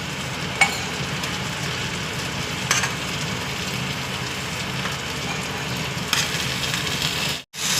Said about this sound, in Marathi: आपण आता याच्यात मसाला भरलेले आहेत ना ते वांगे सोडूया आणि ते पण फ्राय करून घ्यायचे